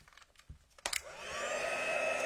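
A heat tool switches on after a few light taps and blows hot air over a stamped greeting card, a steady, close whooshing hum that builds and holds, with no talking.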